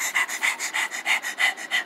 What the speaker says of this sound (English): Why are you panting like that?